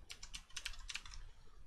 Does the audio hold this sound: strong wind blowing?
no